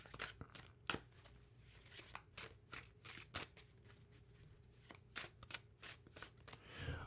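Tarot cards are shuffled and drawn by hand with repeated crisp riffling and snapping slaps in an irregular rhythm, close and quiet against a soft background hum.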